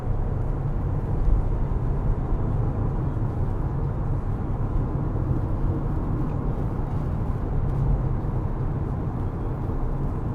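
A 2021 Mercedes-Benz GLA 250 driving in sport mode, a steady, even low rumble of engine and road noise inside the cabin, continuous and moderately loud with no talk.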